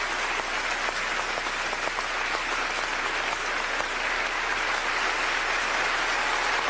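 Sustained, dense applause from a large concert audience at a piano competition for blind Japanese pianist Nobuyuki Tsujii, an even wash of many hands clapping that never lets up, with no voices.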